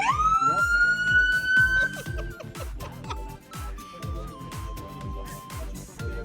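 A police car's siren wails in rising and steady tones after being switched on, sounding loud and close over a thumping rhythmic beat, with some voices mixed in.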